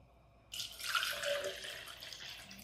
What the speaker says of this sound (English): add my water.